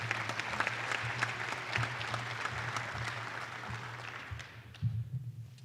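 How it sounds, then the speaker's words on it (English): A university audience claps for the vice president of intercollegiate athletics at a Lindenwood athletics milestone event, a steady moderate round of applause that fades toward the end. "give him a round of applause"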